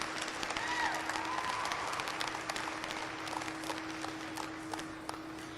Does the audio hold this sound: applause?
yes